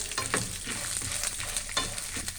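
Onions fry in a pan for a breakfast chutney, a dense close sizzle with quick, rhythmic stirring strokes scraping through it. No speech is heard.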